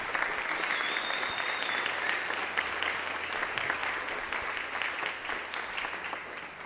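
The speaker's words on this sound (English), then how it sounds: "please give him a big round of applause for that achievement." Sustained applause from a middle school spring concert audience, a dense wash of clapping hands that continues evenly throughout without voices standing out.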